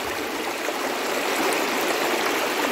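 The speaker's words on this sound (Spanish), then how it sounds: "Dejaría de sonar el fluir del agua" Flowing stream of water, a steady, full rushing and babbling that stays constant throughout, close and loud, with no voices.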